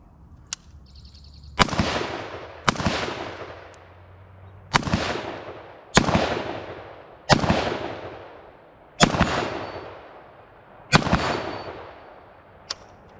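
An IWI Tavor X95 rifle fires about eight single shots at a slow, uneven pace, each a loud, sharp crack with a decaying echo, close by and outdoors with no talk.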